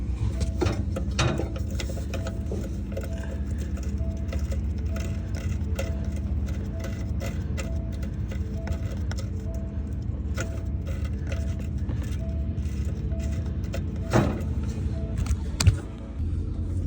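The diesel engine of a Manitou telehandler runs at a steady, fairly quiet idle, with light mechanical ticking and a couple of sharp clicks near the end.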